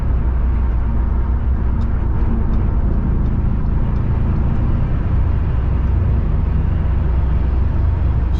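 A 2007 Audi S6 Quattro with its 5.2-litre V10 drones steadily while driving through the city, a dense low rumble mixed with road noise, heard from inside the car without talk.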